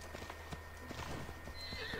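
Horse hooves clip-clopping at a steady walk, with a high whinny rising near the end, moderately close and fairly quiet.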